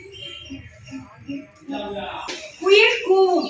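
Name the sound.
child imitating a dove cooing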